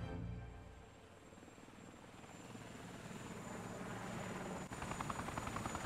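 A helicopter in the video game Yakuza 4 gives off a steady, moderately loud rotor drone with a faint high whine, continuous and unchanging, with no voices over it.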